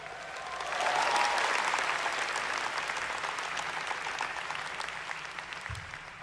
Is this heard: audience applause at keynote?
yes